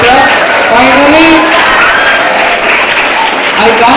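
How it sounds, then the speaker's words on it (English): A classroom of school students claps for a correct answer in a geography quiz, loud dense applause filling the room steadily throughout, with a few voices mixed in. "So, clap for Arpita"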